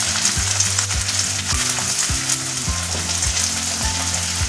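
Aloo keema (minced meat with potatoes) fries in a pan with a loud, dense, continuous sizzle, joined throughout by a low rhythmic tonal pattern.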